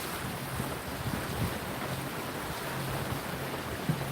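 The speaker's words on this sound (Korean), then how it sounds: "시원한 바람 속에서 지금 항해하고 있습니다." Wind blowing steadily across a boat sailing through the Panama Canal, a constant broad rush with light low buffeting and no voices.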